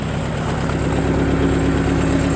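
An 18 hp four-cylinder Mitsubishi MT1801D mini tractor fitted with a rotary tiller runs at a steady idle nearby, a constant low mechanical hum without change.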